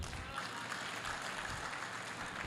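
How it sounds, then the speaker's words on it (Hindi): An audience at a talk about saving the Earth applauds, a steady wash of many hands clapping at a fairly soft level throughout. "एक बात ताली बजाएं सर"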